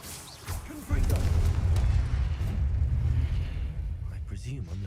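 A Confringo fire spell blast in Hogwarts Legacy erupts as a sudden deep boom that rolls into a sustained low rumble and slowly decays, with a brief voice sound in the background.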